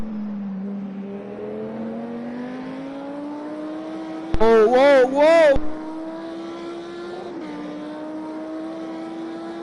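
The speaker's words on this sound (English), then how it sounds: "I love the way these cars growl." Lamborghini Super Trofeo race cars rev and growl at Imola, a sustained engine drone rising in pitch with a loud burst midway, while a voice exclaims over it.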